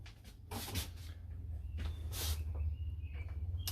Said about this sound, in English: So this door's got a magnet on it, which is very nice. Just holds the door open for you.